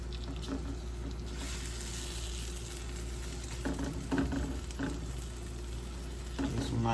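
Shrimp fry in butter in a pan with a steady, quiet sizzle over a low hum, broken by a few soft stirring clinks.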